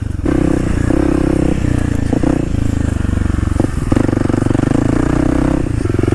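A Kawasaki KLX 300 dual sport motorcycle rides a single track trail, its engine droning steadily near and loud with small throttle changes and occasional clatter from the terrain.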